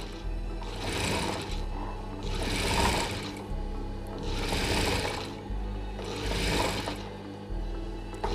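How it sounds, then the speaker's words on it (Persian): A sewing machine stitches a women's English-collar suit in four close, steady bursts of whirring, each lasting about a second and a half and separated by short pauses. "به سمت لباس میخوابونیم و اینجا رو نیش میدوزیم"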